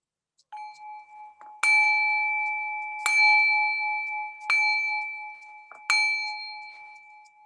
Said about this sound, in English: I'm going to give you the gong to start.